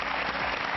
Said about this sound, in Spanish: Pero le vamos a dar un fuerte aplauso a la señora.